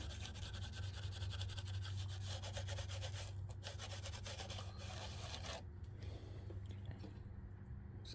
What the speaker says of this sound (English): just basically hold it on the surface and give it circular motions, and the Scotch-Brite will basically do the work for you